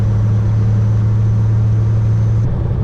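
A Kenworth W900 semi truck's diesel engine drones steadily and loudly while the driver shifts its 18-speed transmission, holding a low, even rumble throughout.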